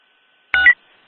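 A single short burst of telephone keypad tones rings out clearly against silence as a call is placed to a Chicago police district desk, with no voices.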